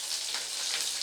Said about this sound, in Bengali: এর মধ্যে অ্যাড করে দেবো পেঁয়াজ কুচি।